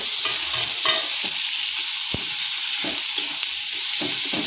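Onion fries in a pan with a steady close sizzle as tomato is added, and a utensil stirs and clinks a few times against the pan.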